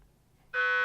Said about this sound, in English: as you can hear in the background, the alarm is now proceeding to set.